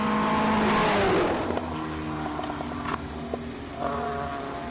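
A Gould single-seater race car screams past on a hillclimb course, loud at first and then fading as the engine note recedes, with brief blips of revs as it shifts or brakes further up the hill.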